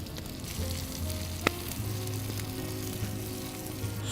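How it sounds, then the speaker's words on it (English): Prawns sizzle softly on a suspended grill over an open wood fire at an Argentine-style barbecue, a steady low crackle with a faint hum, one sharp click and occasional small pops. "So you can listen how the prawns are dancing into our open fire party"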